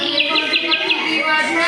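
A recorded quail call played during a bird-sound quiz: a quick run of five sharp, evenly spaced high notes near the start, followed by a spoken question.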